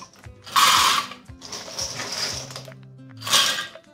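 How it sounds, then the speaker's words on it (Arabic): Almonds ground in an electric food grinder, part of a two-kilogram batch for crunchy almond briouats, with bursts of whirring, rattling blade noise in short pulses, loud and close, separated by quieter mechanical clatter. "هنايا غادي نبقى نطحن شويه"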